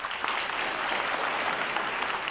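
Theater audience applause at a Stephen King talk, a dense, continuous roar of many hands clapping at once, loud and steady throughout.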